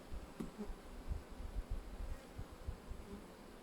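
Honeybees buzz steadily around an open hive, a close, continuous insect drone with small swells as individual bees pass near.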